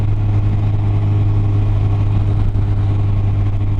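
A Yamaha FJR1300 motorcycle engine drones steadily in high gear while climbing a mountain pass, a loud continuous hum with strong wind rush, heard close without talk.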